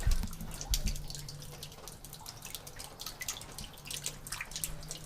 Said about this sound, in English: It's been pouring rain all night